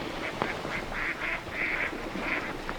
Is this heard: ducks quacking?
yes